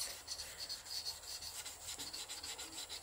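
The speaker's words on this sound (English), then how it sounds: "Give your fingerboard a good clean with a dry microfiber cloth." A dry microfiber cloth rubs along a violin fingerboard in a soft, steady swishing, back-and-forth strokes close by with no voices.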